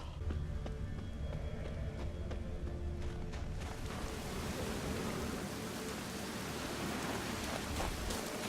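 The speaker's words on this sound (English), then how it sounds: "Looks like rain." Rain falling in The Witcher 3: Wild Hunt, a dense, steady hiss that grows fuller and louder about halfway through and then continues unbroken, with no speech.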